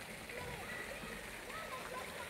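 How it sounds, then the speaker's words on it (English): Waterfall in a 19th-century English-style garden, a steady, broad rush of falling and splashing water that holds an even level throughout, with faint voices mixed into the wash. "The waterfall."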